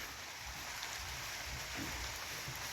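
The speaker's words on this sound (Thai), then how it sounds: "ตอนนี้ฝนตก" Steady rain falling on a hut out in the rice fields, a continuous dense hiss with a faint low rumble beneath and no distinct drops or voices.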